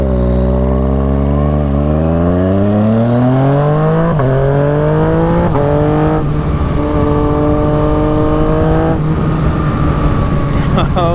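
A Yamaha FZ-09 motorcycle engine pulls hard on its first ride, rising in pitch through the gears with several shift breaks, loud and close throughout.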